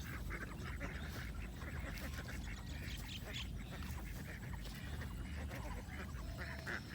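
Ducks on a village pond where they bathe, quacking and honking in a steady, busy chorus over constant low background rumble.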